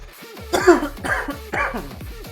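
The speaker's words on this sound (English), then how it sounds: "Sorry, I'll be coughing a little bit." A man coughs in three quick, close bursts about half a second apart, each with a rough throaty rasp, heard alone against a low hum in a home streaming setup.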